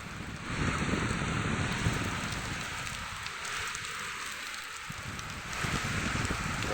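A rain shower with thunder falls over crop fields, a steady hiss of drops with a deep low rumble rolling through the middle.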